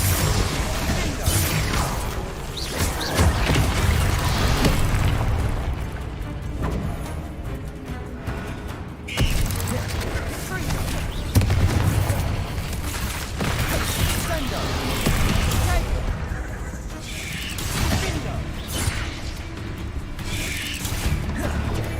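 Bombarda explosion spells cast during Hogwarts Legacy combat on maximum difficulty, with repeated blasts and crashing impacts mixed into busy, continuous battle noise over about twenty seconds.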